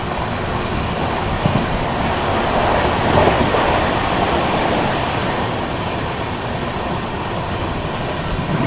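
A moving passenger train, the LTT Mumbai Bhopal SF Express, rumbles steadily with constant broadband noise and a faint clatter, heard continuously from on board without talk.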